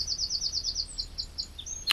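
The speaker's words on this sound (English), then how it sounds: "I can hear the tweets of the birds." Small birds chirp and tweet in a quick repeated series of high, thin calls at a motorcycle campsite in Borth in the early morning, fairly faint and steady over a low background hum with no talking.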